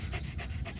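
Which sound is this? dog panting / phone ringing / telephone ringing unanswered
dog panting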